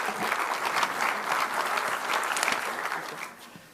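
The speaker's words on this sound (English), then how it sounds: "Can we have a big round of applause and let's welcome with a warm." An audience gives sustained applause welcoming a keynote speaker at a healthy-lifestyle talk, a dense, even roar of many hands from a large crowd, steady throughout and tapering slightly at the close.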